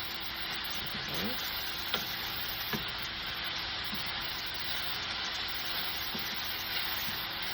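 Baby Bella mushrooms, onions, garlic and sweet banana peppers sautéing in a pan give a steady, hissing sizzle with a few soft clinks and stirring taps scattered through, quiet and unbroken.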